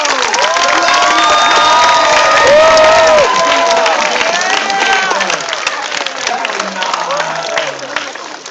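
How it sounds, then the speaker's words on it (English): Loud crowd at a Renaissance fair hypnotist show cheering and applauding continuously, with shouts and whoops rising over sustained clapping throughout. "sleep to the sound of applause. The more you applaud, the deeper they will go."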